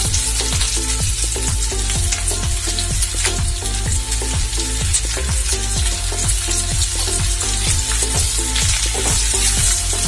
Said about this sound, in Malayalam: നമുക്ക് ഇനി ഇതിലേക്ക് വലിയുള്ളി അരിഞ്ഞു വെച്ച് ചേർത്ത് കൊടുക്കാണ്